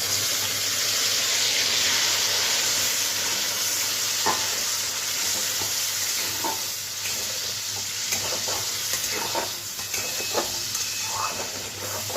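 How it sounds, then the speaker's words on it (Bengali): Onion, green chilli and tomato paste sizzle loudly in oil left from frying pangas fish, a continuous close frying hiss with scattered spatula scrapes and stirring knocks growing busier toward the end, no voices. "এটা একটু আমি নাড়াচাড়া করে কষিয়ে নিচ্ছি"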